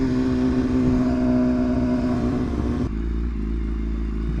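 A BMW HP4 motorcycle fitted with an SC Project exhaust rides at speed with a steady, loud engine drone. Partway through, the tone drops, as if from a gear change or a shift in the wind, and no voices are heard.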